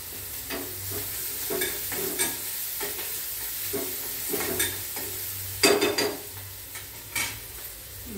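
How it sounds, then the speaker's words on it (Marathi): Onions sizzle and crackle in a hot pan of tempering oil while a spoon stirs them with repeated scraping strokes, close up and without talking. "कांदा चांगला परतून घ्यायचा"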